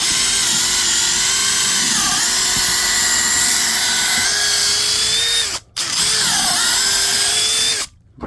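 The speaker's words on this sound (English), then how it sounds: "And I'll do my pilot hole for my 5/8." A sub-compact cordless drill bores a pilot hole for a 5/8 fastener into fir wood, its steady, loud high-pitched whine holding for several seconds, with two brief cut-offs near the end.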